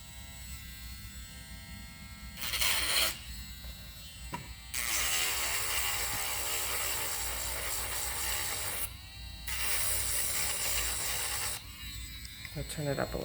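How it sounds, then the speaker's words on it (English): A rotary tool grinds the edges of a resin pendant, giving a steady high-pitched electric whine with loud bursts where the bit bites into the resin, close and continuous. "we're going to grind all this off"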